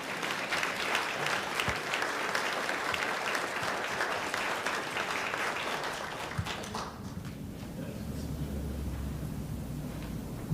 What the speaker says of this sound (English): Oh, you can clap anyway. It's a clapping event.